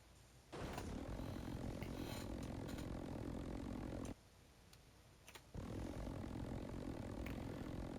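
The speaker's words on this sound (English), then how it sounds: "So this plane is fairly loud." Propeller engine of the Strato 920 plane in BeamNG.Drive, a loud, steady droning roar that dips briefly twice, with no voices over it.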